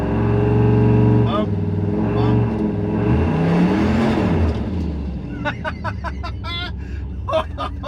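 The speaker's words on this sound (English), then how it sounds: "Okay, I'm just gonna hold some RPM." A car engine held at steady RPM against a transbrake, a loud sustained drone with strong harmonic bands that wavers slightly, fading a little toward the end as faint chirps and background sounds come through.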